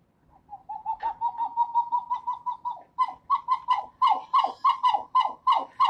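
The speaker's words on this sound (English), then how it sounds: "Okay, so here is the song of a pied-billed grebe." Pied-billed grebe song in a marsh, a run of steady hollow cooing notes that speed up and grow louder into a series of emphatic, evenly spaced calls, clear and alone.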